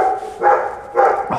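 Guard dogs at a refinery barking in three loud, close, drawn-out bursts, one after another, with no talk.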